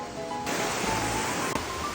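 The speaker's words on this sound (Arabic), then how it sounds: "وطلع في شلال بجد" A waterfall in Tbilisi, Georgia rushes in a constant, loud, broadband roar that stays close and unbroken throughout, with no voices.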